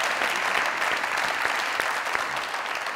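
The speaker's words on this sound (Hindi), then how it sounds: "जोरदार तालियां।" Studio audience applauding during a comedy talk show taping, a dense, even burst of clapping that fills the room and fades slightly near the end, with no talk over it.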